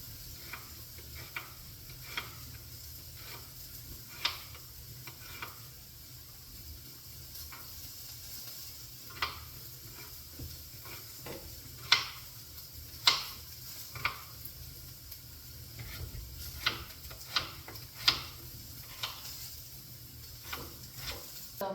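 A pot of courgette in water on a stovetop burner, bubbling and simmering with a steady low hiss and scattered small ticks and pops, fairly quiet and unbroken by talk.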